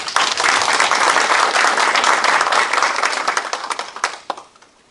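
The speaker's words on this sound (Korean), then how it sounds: "우리 박수 한번 쳐주시죠" A town hall crowd meeting with local residents breaks into loud, close applause that holds steady for about four seconds, then thins into scattered final claps and fades out.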